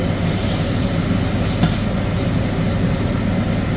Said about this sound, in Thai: เครื่องดูดอากาศจะเสียงดังนิดนึงนะทุกคนนะ